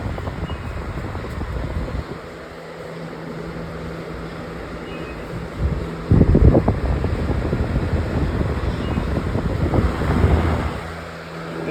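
A Vornado model 80 18-inch high velocity box fan runs at speed 3, producing a steady broadband whoosh of moving air that holds for the whole stretch, with a couple of louder gusty bumps partway through.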